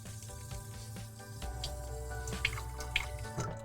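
Water drips while a paint palette sponge is rehydrated for miniature paints, a few soft distinct drops landing near against a light background of splashing and trickling water.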